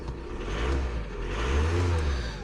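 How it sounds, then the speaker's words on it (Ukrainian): Car engine just started and running, a steady low rumbling idle with slight swells in revs, close and fairly loud, no talk over it. "Значить, заводимо машинку. Машинка завелася."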